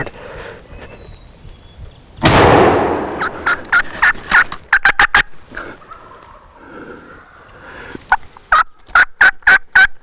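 Wild turkey gobbling in the mountains of New York: a loud burst of rattling gobble, then repeated sharp clucking calls in quick clusters, fairly close and clear.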